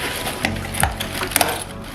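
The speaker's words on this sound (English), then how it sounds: "Okay, I broke a glass." Glass breaking indoors while packing up an apartment: a few brief, sharp clinks and tinkles scattered over two seconds, close by and fairly quiet.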